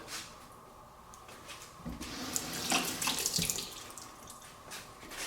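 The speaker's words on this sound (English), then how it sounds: "Get rid of the core, and then just rinse the seeds out." Tap water runs into a sink as seeds are rinsed out of cored vegetables for a spicy summer salad: a steady close splash and gurgle that swells louder midway, with faint handling clatter and no talking.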